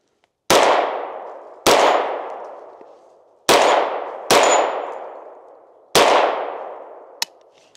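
Five loud, close shots from a 9mm Bear Creek Arsenal rifle on a new bufferless lower, fired one at a time at uneven intervals, each with a sharp crack and a ringing decay.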